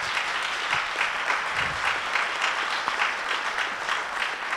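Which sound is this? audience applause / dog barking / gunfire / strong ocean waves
audience applause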